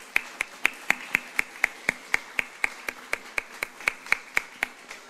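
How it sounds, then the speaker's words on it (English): A small group claps at a steady, even pace at an exhibit opening, about four crisp claps per second, close and clear with no talk. "just a quick round of applause."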